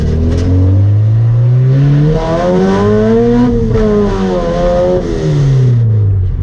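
Nissan SR20VE engine in a B14 running an open header, revving hard through several rising and falling sweeps, loud and close throughout with no talk.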